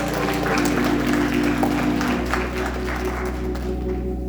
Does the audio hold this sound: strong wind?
no